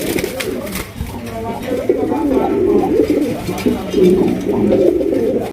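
Bombay and Maltese pigeons coo in a loft, a continuous overlapping throaty burble from several birds nearby, with a person talking over them.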